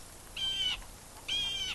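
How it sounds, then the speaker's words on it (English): A jay calls twice outdoors, each a harsh, strained, nasal cry of roughly half a second, moderately loud and alone. "That's a jay."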